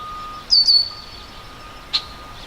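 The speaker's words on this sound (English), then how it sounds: "It's a red-winged blackbird up there scolding me." A red-winged blackbird calls from above a forest trail in Loyalsock State Forest, giving two short high scolding notes and then one more sharp chip a moment later, fairly clear against a quiet background.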